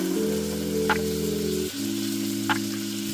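Korean BBQ short ribs sizzle steadily in a hot skillet, a continuous frying hiss with a couple of brief clicks or scrapes as the meat goes in and shifts, with no talking.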